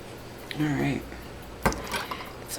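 Metal canning lids being set onto glass jars of homemade ketchup, a few light metallic clinks and one sharper clack nearby, with someone speaking briefly in between.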